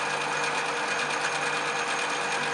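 A lathe turns a workpiece held between two centres, giving a steady, even mechanical whir with a faint rhythmic hum that stays constant throughout, with no talk.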